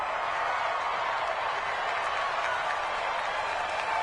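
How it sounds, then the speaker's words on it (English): Steady crowd roar and cheering in a PS4 football video game broadcast ahead of a big third down, a dense continuous wash of noise with no clear breaks. "the crowd getting into it as we come up on a big 3rd down"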